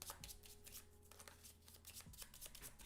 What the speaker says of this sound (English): we're going to shuffle up these cards.